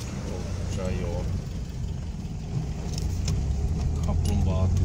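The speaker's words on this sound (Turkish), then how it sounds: "Dediğimiz gibi trafik oldukça yoğun." Steady roar of heavy, slow-moving road traffic near Uzungöl lake in Trabzon, Turkey, engines rumbling and humming nearby throughout, with faint voices in the background.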